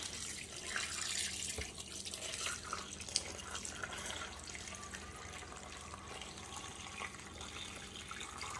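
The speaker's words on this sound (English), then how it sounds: "I'm just going to fill this up with water now." Tap water runs steadily into a container, a soft continuous splashing and gurgle at moderate distance, with no talking.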